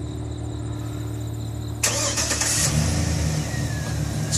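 Remote start of a 2007 GMC Sierra 2500 HD crew cab with a 6.0L Vortec V8, heard close: a quiet hum, then a sudden cranking catch and a quick rev that settles into a steady idle.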